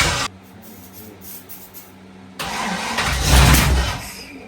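An LS-swapped BMW E36 drift car cranks over after a fuel fire, with a loud burst cut short, a stretch of low churning, then the engine catching with a rough, swelling roar.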